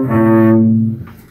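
Cello plays a sustained bowed phrase from measures 76 and 77 of Bréval's Sonata in C, a rich low tone with a slight pitch change near the end, then fading out; loud and close, no voices.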